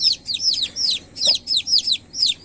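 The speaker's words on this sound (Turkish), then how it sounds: "Şu öten onun kendi civcivi arkadaşlar." A newly hatched chick cheeps repeatedly in a quick, steady series of high, loud chirps, close by, with no talking.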